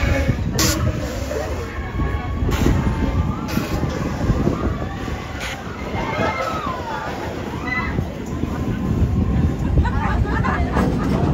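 The Walt Disney World Railroad steam train runs along with a steady rumbling chug and bursts of noise, while voices talk over the train sound.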